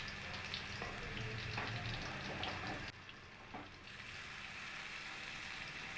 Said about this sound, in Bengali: আদাটা দিয়ে আমি খুব ভালো করে আদাটাকে ভেজে নেব